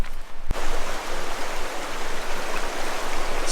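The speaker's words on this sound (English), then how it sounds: "there's a river just down there" A wilderness river runs right beside a campsite, giving off a steady, broadband rushing of flowing water. It stays close and continuous, with a brief thump near the start and no voices.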